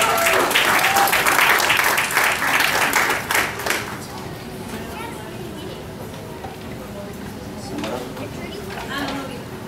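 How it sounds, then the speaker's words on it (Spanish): Church audience applauds a graduating class at a Vacation Bible School ceremony: loud, crowded clapping for about four seconds, then fading into a quieter room murmur. "Un aplauso grande a los discípulos."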